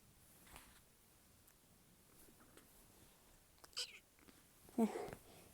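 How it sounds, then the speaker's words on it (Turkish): A short, faint meow sounds twice near the end, against a quiet room with low background noise. "Hadi miyav de."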